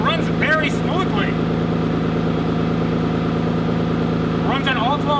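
Aston Martin DBS with a V12 engine idling smoothly on all twelve cylinders after a DIY repair, a steady low hum running throughout while someone talks over it.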